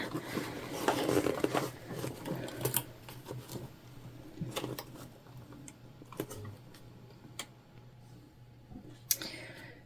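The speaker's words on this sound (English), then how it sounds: "we're just top stitching that sort of extension that we just did" A sewing machine top stitching the extension panel of a mini bag, the Aida Bag, running in short stop-start bursts of fast ticking clicks, close and moderately quiet, with no talking.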